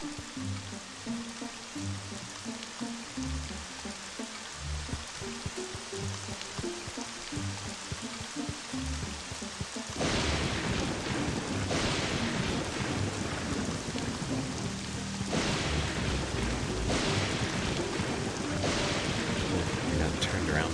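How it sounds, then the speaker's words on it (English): A video game storm of heavy rain and rumbling thunder in a forest setting, the downpour growing noticeably louder and denser partway through, with no talk over it. "Rain."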